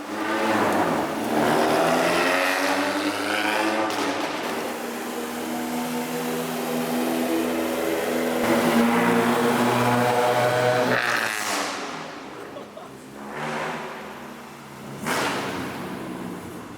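Cars leaving after a kanjo night in Osaka, engines revving and droning loudly as they pass close by one after another, then fading, with a couple of sharp whooshes near the end.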